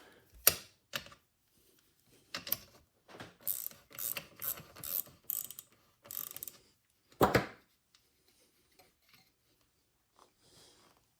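A hand ratchet works a bolt out of a Honda XR75 motorcycle, sounding as quick bursts of close, crisp clicking separated by pauses, with a louder clank near the end and quiet afterward, no voices.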